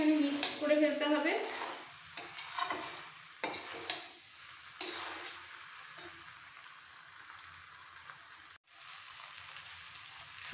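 Green chillies and mixed vegetables for a labra curry being stirred in a frying pan, uneven scraping and soft sizzling bursts that fade in and out, fairly quiet with no speech.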